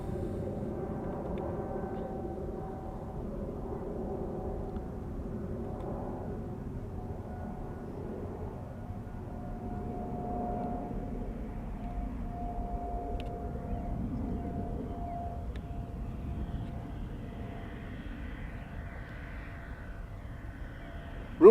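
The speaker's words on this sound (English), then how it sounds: "Overhead, another Bombardier C series." A Bombardier C Series airliner passes overhead near Schiphol Airport, a steady, moderately loud jet roar with faint tonal whine that drifts slowly in pitch across the whole stretch, with no talking.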